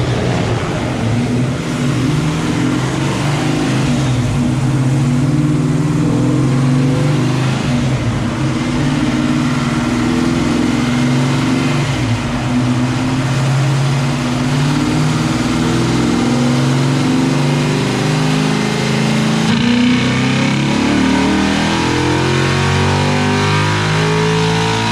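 A 363 stroker engine revs hard on a dyno pull, a loud sustained roar that climbs steadily in pitch, drops back, then rises again near the end.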